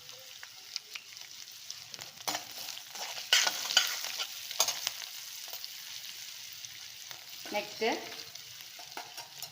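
Coconut rice seasoning with a dried red chilli and asafoetida powder sautéing in a pan: soft sizzle with intermittent spoon scrapes and stirring clatter, fairly quiet and close, a brief spoken word near the end.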